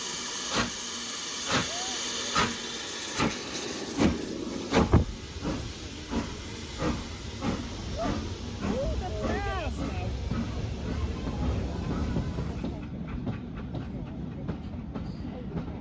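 Rhythmic chuffing and hissing from a steam locomotive on a heritage railway, with regular clanking beats and a whistle-like squeal midway, while a person speaks over it.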